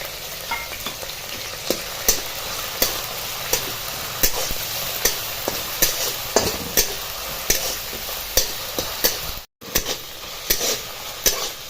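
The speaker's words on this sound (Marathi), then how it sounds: "हे तेलात चांगली डाळ परतवून घ्यायची" Soaked moong dal sautéing in hot oil, a steady sizzle broken by regular scraping strokes of a spoon against the pan, close and even, with a brief dropout near the end and no speech.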